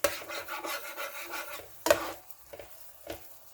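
Metal spatula scraping and tapping hamburger bits off into a pan, a run of rasping strokes followed by a sharp knock and a few lighter taps, close and alone.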